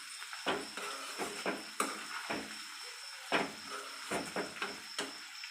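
Garlic and curry leaves frying in oil in a pan for poha chivda, a light crackling sizzle with recurring sharp clinks and scrapes of stirring, steady and close with no voices.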